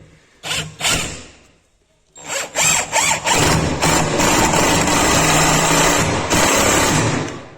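A Hychika cordless impact driver, rated 350 Nm with a 4 Ah battery, drives a lag screw into wood: two short bursts, then a loud, steady rattling hammer for several seconds, up close.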